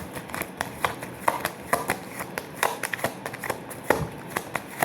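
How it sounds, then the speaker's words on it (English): A deck of cards being shuffled during a tarot-style reading: a steady run of light, crisp riffling taps and flicks, close and fairly quiet, with no speech. "You can skip the shuffling part, okay?"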